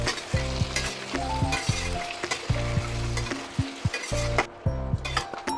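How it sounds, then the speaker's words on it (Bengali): Boiled mutton fries with onions in a pan, a constant loud sizzle broken by rhythmic scraping and clinking of a spatula stirring against the metal. "মাটনগুলো একটু পেঁয়াজের সঙ্গে ভাজা ভাজা করে নেবো"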